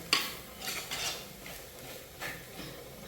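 Faint scraping and clinking of a spoon stirring fish curry in a pan, a few soft irregular strokes with quiet gaps between them.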